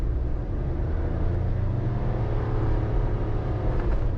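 Car engines droning low and steady while straining on a slippery, icy road in Japan, a continuous heavy rumble with no voices over it.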